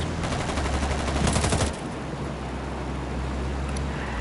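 Rapid automatic gunfire in the video game Ghost Recon, a dense burst of shots over a low engine-like rumble, cutting off sharply after under two seconds and leaving the steady drone alone.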